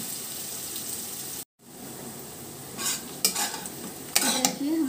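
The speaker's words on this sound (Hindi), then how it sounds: "ये ऑनियन जो है इसको मीडियम लो फ्लेम कर करके इसको अच्छे से फ्राई करना है" Onions fry over a medium-low flame, a constant soft sizzle broken by a brief dropout, then spatula scrapes and light clinks against the pan toward the end, close up and with no voices.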